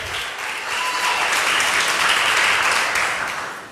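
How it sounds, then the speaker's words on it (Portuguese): A church congregation applauds during a sermon, the clapping swelling up after a brief start, holding steady, then tapering off near the end. "Dê um aplauso."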